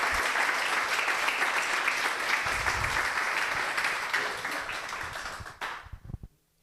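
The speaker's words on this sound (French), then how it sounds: "Sous les applaudissements nourris du public, Clémence Thuur-Mauprivé." Hearty audience applause at a research network gathering of young ecotoxicology researchers, sustained clapping from a room full of people that fades out over the final second or so.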